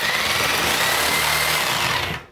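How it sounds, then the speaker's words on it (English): A reciprocating saw cuts through drywall during a bathroom demolition, a loud continuous buzzing rasp that holds steady for about two seconds before cutting off. "I'm gonna cut 8 feet of drywall now with a reciprocator."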